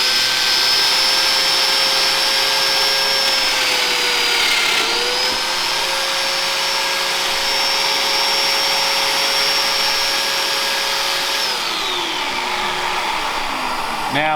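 A Domino joiner switched on and held upright runs with a steady, loud, close motor whine and hum. It holds an even pitch throughout, with a brief dip in speed near the middle and another toward the end.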